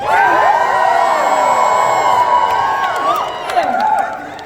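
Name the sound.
training audience standing and screaming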